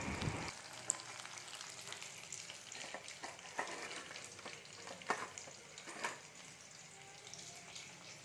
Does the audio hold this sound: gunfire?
no